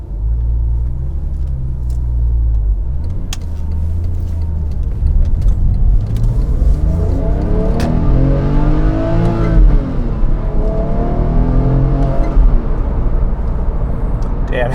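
A Porsche 911 Carrera 997 with its 3.6-liter flat-six boxer engine drives on the road, a steady low rumble with rising and falling revs from inside the car, no talk heard.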